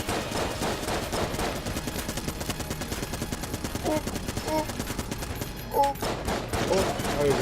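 Gunfire in the video game Enter the Gungeon: rapid, continuous bursts of shots under game music, with a few brief chiming pickup tones, steady and loud across the whole stretch.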